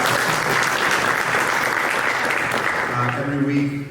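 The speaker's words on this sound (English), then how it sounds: "Round of applause." An audience at a WonderCon panel claps in a steady, dense wash of applause that holds loud for several seconds, then starts to thin out toward the end.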